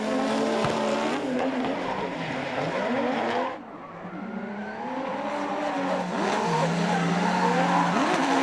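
Drift race cars swing through a corner with tire squeal and long skids over roaring, revving engines, loud and close; the engine note dips briefly midway before the squealing and revving pick back up.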